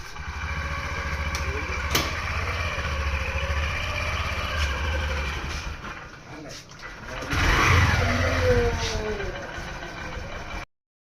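A motorbike engine idles with a low, steady rumble while the bike is brought inside a home, swells louder in a brief rev, then cuts off abruptly.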